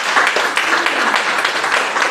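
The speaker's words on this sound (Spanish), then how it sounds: "Démosle un aplauso al Señor." Church congregation clapping in praise during a Spanish-language sermon, a dense steady patter of many hands with some scattered voices mixed in, close and fairly loud throughout.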